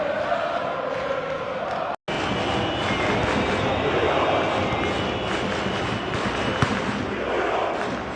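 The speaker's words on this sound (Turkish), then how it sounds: "Mücadele sonucu çizgide kale vuruşu kazandıkları için alkış alıyorlar." A stadium football crowd at a Beşiktaş versus Internazionale match applauds the players, a steady broad roar of claps and noise that fills the whole stretch with no break in intensity.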